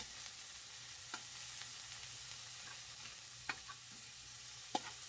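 Ginger sizzling steadily in oil for pakbet with pork, a low continuous fry broken by a few sparse scrapes of a stirring utensil against the pan, no voices.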